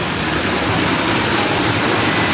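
A waterfall at Busch Gardens Tampa roars loudly and continuously, a dense, steady rush of falling water close by with no other sounds standing out.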